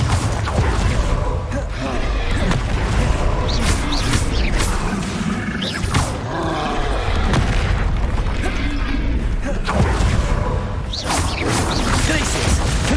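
Confringo fire spells blasting in Hogwarts Legacy gameplay, a run of booming explosions with crackling debris and bursts repeating every second or two over thick, continuous game noise.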